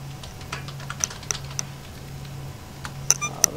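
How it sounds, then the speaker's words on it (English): Loud clacking keystrokes on a computer keyboard while playing StarBound, irregular taps and clicks over a low steady hum, with a couple of sharper key hits near the end. "My keyboard is really loud."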